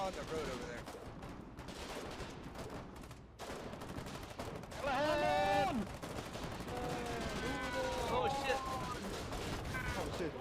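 Dense gunfire in a war video game during a massive rush, with rapid overlapping shots and bursts at steady loudness throughout, and synthetic tonal effects rising in the middle.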